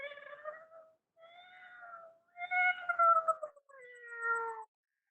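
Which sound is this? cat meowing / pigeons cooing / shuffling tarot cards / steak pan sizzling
cat meowing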